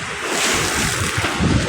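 Rushing waves and surf against a seawall on Manila Bay, with a broad hiss of water and wind buffeting the microphone, continuous and close.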